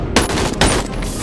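Rapid automatic fire from an AKM rifle in the VR game BoneLab, a dense burst of loud, sharp cracks with two heavier shots standing out, filling the whole moment with no voices.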